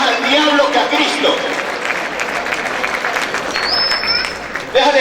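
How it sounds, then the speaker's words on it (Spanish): A church congregation applauds strongly during a Spanish-language sermon, a dense, sustained roar of many hands clapping at once that fills the room from start to finish. "Siempre le aplaudiera fuerte al Señor"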